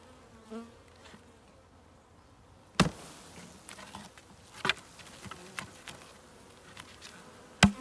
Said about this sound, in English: There's a lot of bees in this one.